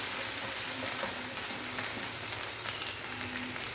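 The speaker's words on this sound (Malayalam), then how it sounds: "എണ്ണ ചൂടാകുമ്പോഴേക്കും പൊട്ടറ്റോ എണ്ണയിലിട്ട് പെട്ടെന്ന് തന്നെ എടുക്കാവുന്നതാണ്." Potatoes fry in hot oil over a high flame for a capsicum curry, giving a steady, dense sizzle that holds evenly throughout, close and moderately loud with no voices.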